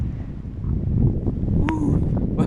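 Strong wind buffets the microphone on the Isle of Wight coast, a steady broadband roar with gusts and a brief tonal whine partway through.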